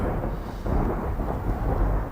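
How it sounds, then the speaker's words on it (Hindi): Deep, steady thunder rolls on without break, a heavy low rumble that swells slightly partway through, loud and close-sounding, with no voices over it. "यही आवाज, ये बादल गरज रहा है।"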